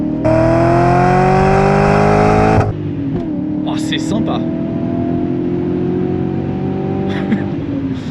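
A loud, close BMW V8 engine of about 220 horsepower revs hard and climbs in pitch for a few seconds in second gear near 3000 rpm, then settles into a steady idle hum while a person briefly speaks.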